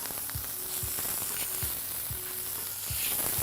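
Onion frying in a pot with garlic and ginger paste and Indian five-spice for an aubergine, capsicum and potato curry: a steady close sizzle, with soft low stirring thuds repeating every half second or so.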